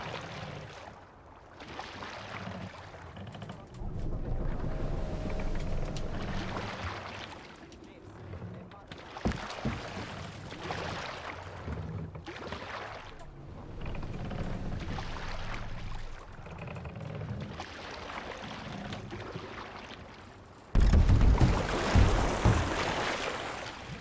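Oars pull a boat across open water in Assassin's Creed Valhalla, soft rhythmic splashes and sloshing under wind and waves, with talk over parts of it and a louder burst of activity near the end.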